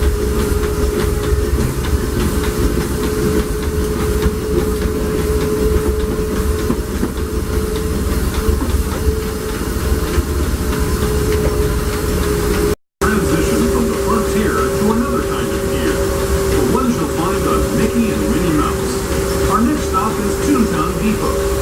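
The Disneyland Railroad train runs steadily at night, a continuous rolling rumble with a sustained whistle-like tone and faint clatter, carrying on throughout with a brief dropout near the middle and voices faintly present in the background.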